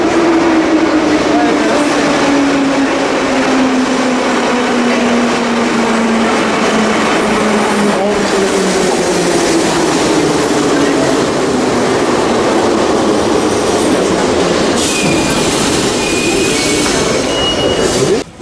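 A subway train rumbles loudly through a deep metro station in Tbilisi, Georgia, wheels squealing in a falling tone and a roaring rush, with brief voices in the background.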